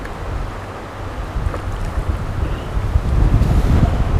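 Strong wind gusting outdoors beside the water at a carp fishing spot, rumbling against the microphone in uneven buffets that grow heavier toward the end, with no voices.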